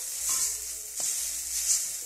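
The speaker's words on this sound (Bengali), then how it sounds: "ম্যাগিগুলোকে ভেজে নিয়েছি" Maggi noodles fry in a pan with Maggi masala, a bright continuous sizzle with a couple of brief scraping stirs close by.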